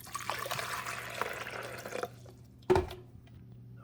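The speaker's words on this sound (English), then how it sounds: "we're going to pour this distilled white vinegar at full strength in the back" Distilled white vinegar glugs and splashes as it is poured at full strength into the reservoir of a Braun Aeromaster KF400 10-cup coffee maker, a steady liquid rush for about two seconds, followed by a single sharp splash.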